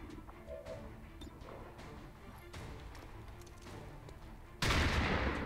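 A sawed-off shotgun in XCOM 2 fires one loud, broadband blast near the end, after a stretch of busy battle ambience with scattered distant shots and low rumble.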